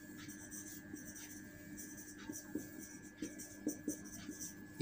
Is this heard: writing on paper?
yes